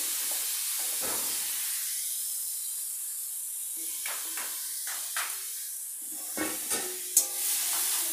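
Grated carrots cooking in ghee in a pan, a soft steady sizzle and hiss with intermittent scraping stirs and light knocks of the spoon against the pan.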